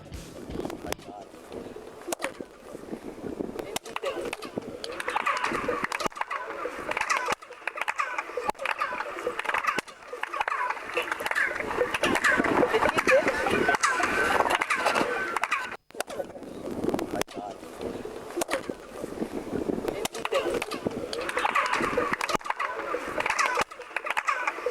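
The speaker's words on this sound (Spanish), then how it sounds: "uno da una palmada y el eco, ahora lo vamos a escuchar en el video" Hand claps echoing back with a chirping, bird-song-like quality, several claps from multiple people overlapping into a continuous bright warbling texture that swells in the middle and recurs toward the end, with a faint background hum.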